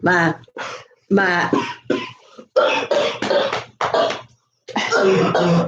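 A voice breaks into a series of harsh, repeated coughs in short bursts, separated by brief pauses, close and loud.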